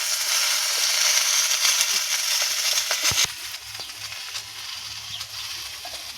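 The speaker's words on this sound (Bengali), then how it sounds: "কুটে রাখা বেগুন, পুঁই শাক সব একসাথে সবজি এই যে কড়াতে দিয়ে দিচ্ছি সেদ্ধ করতে।" Loud, bright sizzling of chopped eggplant and Malabar spinach in a hot wok, crackling steadily, with a few sharp clacks of a utensil midway and the hiss easing slightly afterward.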